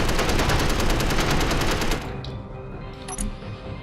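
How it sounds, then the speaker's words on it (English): Rapid automatic gunfire in the Space Engineers video game, loud continuous bursts for about two seconds, then quieter game ambience with a few faint clicks and tones. "So let's just shoot this guy up."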